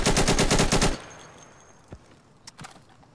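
Rapid automatic AK-47 fire in the video game Insurgency, a loud close burst of about ten evenly spaced shots lasting a second, followed by quieter scattered clicks and distant pops.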